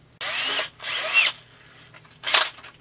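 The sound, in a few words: power drill enlarging screw holes in chainsaw cover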